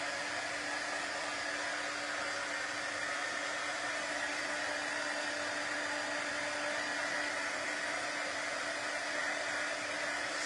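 A hair dryer runs continuously at close range, a loud, even blowing whoosh with a steady motor hum and no break from start to finish.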